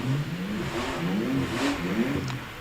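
The supercharged engine of the Bellevue Special vintage racing car revs in quick rising and falling bursts at a VSCC hill climb at Prescott, a fairly distant buzzing note repeating over steady outdoor background.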